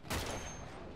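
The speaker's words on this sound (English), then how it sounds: "there's another freaking machine gunner up here" Machine gun fire from an enemy gunner in Uncharted rattles out as a brief, loud burst of rapid shots with a short echoing tail.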